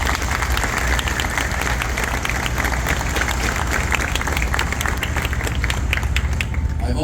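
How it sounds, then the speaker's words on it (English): A large outdoor crowd claps steadily for sailors at the commissioning of the USS Cooperstown, a loud continuous wash of applause with scattered cheers over a low background rumble. "Let's give them a round of applause"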